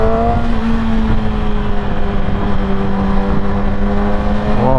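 Steady engine drone of vehicles on a road, heard from a moving motorcycle, with a continuous low hum and a rising whine near the end as something passes.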